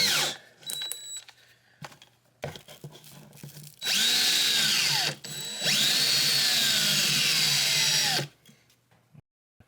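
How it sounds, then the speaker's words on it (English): A power drill whirs close by in two long, loud bursts while making a bullwhip, its pitch sliding as it spins up and down, with shorter clicks and handling noises between. "What I like to do is I like to take a drill, stick it in"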